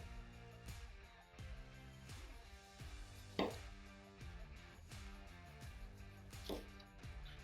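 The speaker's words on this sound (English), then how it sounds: "So I'm gonna cut it here, across the grain" A knife cuts across the grain of a barbecued picanha steak on a board for sandwich meat, giving repeated rhythmic slicing strokes with a few sharper knocks, close and fairly quiet over a steady low hum.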